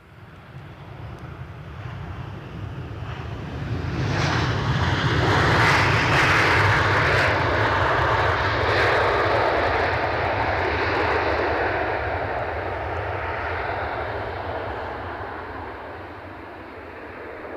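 A Ryanair airliner lands with a long jet-engine roar that swells in from a distance, peaks loudly, then slowly fades as the aircraft rolls away, with no talking.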